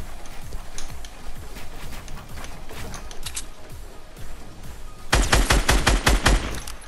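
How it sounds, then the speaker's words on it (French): Gunfire in the video game Fortnite, played solo on PS4: scattered, fairly distant shots crackling through the first seconds, then a loud, close burst of rapid automatic fire near the end, with no talking. "Ça tire aussi vers là-bas, là."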